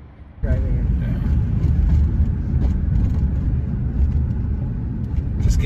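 Steady, loud low rumble of a car on the road, heard from inside the front seat of a Honda Element, starting abruptly after a quiet moment and continuing as even road and engine noise with no talk.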